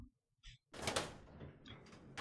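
A door opens in the video game Resident Evil Zero, with a soft click followed by a loud, sustained scrape and rumble lasting over a second before trailing off, heard alone.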